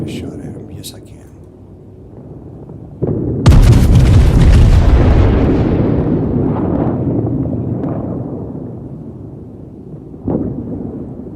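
Heavy naval guns of the battleship Massachusetts boom in a World of Warships battle, one big blast followed by a long rumbling decay and a second thud, with speech over the action.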